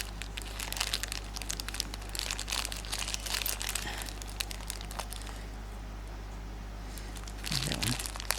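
Beads being rummaged through in a crinkly plastic packet during hand beading and embroidery on a wool blanket, giving a near, steady stream of soft crackling and rustling, with a brief louder clatter near the end.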